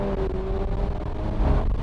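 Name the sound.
high-performance SUV exhaust note accelerating in Sport Plus mode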